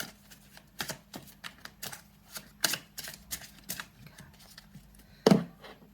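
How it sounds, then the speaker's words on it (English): A deck of cards being shuffled by hand, a run of quick papery riffles and taps with a sharper snap near the end, close and quiet. "I'm going to give them another little shuffle"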